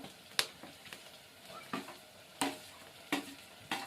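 Tomato and coriander stir-fried in a pan over a village cooking fire, with soft continuous sizzling punctuated by several sharp scraping stirs spaced through the moment, close and fairly quiet, no talking.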